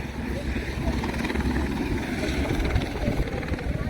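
Loud, steady rotor drone of a helicopter filling the whole clip, rough and thudding with wind buffeting, no clear voices on top.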